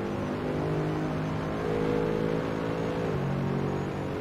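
A Mercedes SLS GT3 race car engine in Assetto Corsa at Monza, droning steadily with a slight rise then a gear change near the end, close and continuous with no voices.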